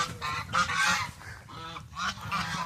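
Several domestic geese honk loudly and close by at a homestead pond, giving repeated harsh, overlapping calls in bursts with short pauses between them and no talking.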